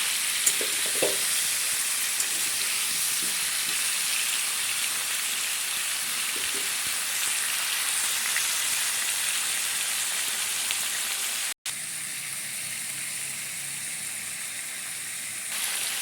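Chicken pieces frying lightly in a pan, a steady close crackling sizzle that runs unbroken for the whole stretch apart from one brief cut, with faint stirring knocks early on and no talking.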